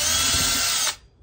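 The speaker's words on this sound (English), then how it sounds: "I've got a drill bit. I am just reaming these holes out." A power drill with a bit reaming out holes in poured 2 oz lead fishing weights: a loud, steady high-pitched whine for about a second that cuts off abruptly, heard up close.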